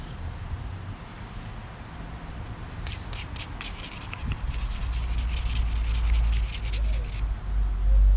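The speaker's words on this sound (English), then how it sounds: "But I'm gonna sand it off right now" Sandpaper scrubs rust off metal field gear, a steady rasping rub that grows louder with quick rhythmic scraping strokes toward the end, close and alone.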